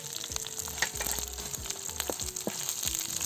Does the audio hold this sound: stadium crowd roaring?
no